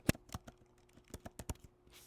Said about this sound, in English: I'm going to type this word in.